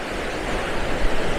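Rough sea surf breaking along the seafront at Swanage, near old jetties running into the sea, a steady broadband wash of waves that swells slightly louder toward the end, with no talking.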